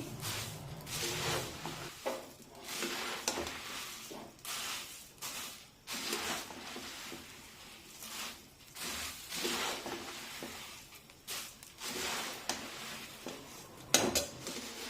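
Murmura chivda, a puffed-rice snack, stirred in a pan over a low flame, giving repeated scraping and clinking of a spoon against metal in uneven bursts, fairly close and steady throughout with no talking.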